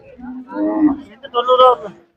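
Cattle bellow at a busy livestock market, two loud drawn-out moos from bulls in close succession, the second rising higher, with no clear talk over them.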